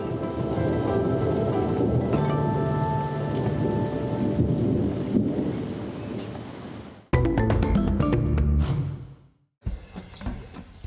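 Heavy rain falls steadily in a jungle setting with rumbling thunder, loud and dense, then shifts to closer, harsher patter broken by a brief pause near the end.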